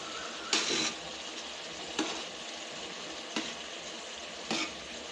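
Mint and coriander stirred into a pot of bagara rice, with four distinct scraping strokes spaced about a second and a half apart over a soft continuous sizzle.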